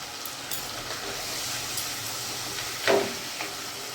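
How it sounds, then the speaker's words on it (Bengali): Spices with turmeric and Kashmiri chilli powder are stirred in a hot frying pan for hilsa curry, giving a steady soft sizzle and hiss with a brief louder scrape near the end. "ভালো করে আমি নাড়াচাড়া করে নিলাম"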